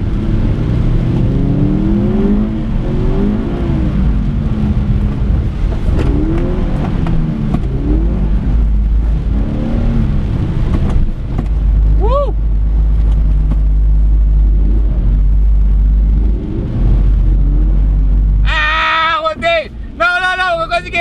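Toyota GT86 drifting on a wet road in the rain, with the engine revving and surging through slides and road rumble underneath. Someone talks over much of it, and a short squeal and a burst of harsh tonal noise come near the end.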